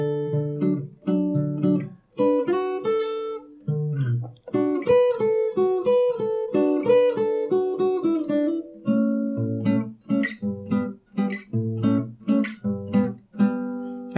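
Fingerstyle acoustic guitar plays part of the melody of a song from the Barfi soundtrack: plucked notes and chords ring out clearly in a steady, flowing rhythm, close and alone with no voice.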